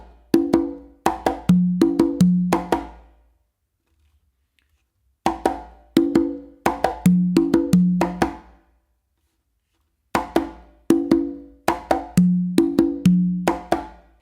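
Congas play a conga de comparsa pattern: three repeated phrases of crisp slaps and open tones in a syncopated rhythm, close and loud, separated by brief silences.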